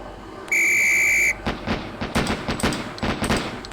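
A shrill electronic drill whistle sounds from the Police Quest SWAT video game, one loud sustained blast, followed by a rapid series of sharp gunshot cracks from a shooting drill.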